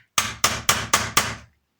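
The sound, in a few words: hammering pins using a drill bit as a punch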